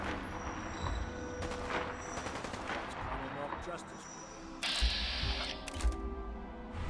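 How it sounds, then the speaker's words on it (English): Dense bursts of rapid gunfire crackle continuously, with a louder sharp volley partway through, like a chaotic firefight in the video game Fallout 4, around Diamond City. "And gunfire everywhere."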